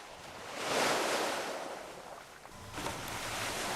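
Sea waves washing along the shore of Naissaar island, a swelling surf rush that rises, eases and returns under steady wind, with no voices.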